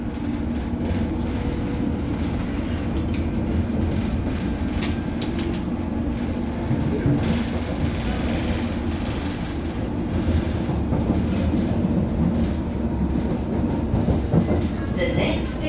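A London Underground District line train runs along the track with a loud, continuous rumble and rattling clatter heard from inside the carriage, with brief higher squeals mixed in.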